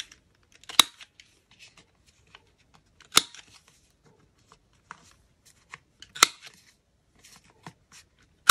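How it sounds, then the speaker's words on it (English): Scissors snip through rice paper while trimming craft specimens: three sharp, close cuts spaced a few seconds apart, with faint paper rustles and handling noises in between. "So I just go around and cut a little bit, just like a sliver."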